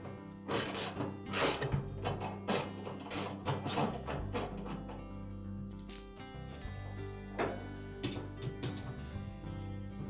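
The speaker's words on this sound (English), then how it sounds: "using a ratchet and a 1/2-inch socket, we'll loosen those bolts" A ratchet fitted with a 1/2-inch socket loosens the transmission bolts under the tub of a Whirlpool washer, giving rapid, regular metallic clicks over a low hum, then slower scattered clicks and clinks nearby.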